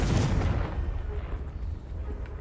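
A blasting-curse explosion from Hogwarts Legacy booms once at the start, loud and deep, then rumbles and crackles away into a fading low tail.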